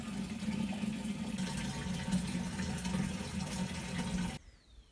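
Water runs from a tap into two containers at once at a ruin being renovated in central Portugal, a steady close splashing flow that cuts off abruptly near the end.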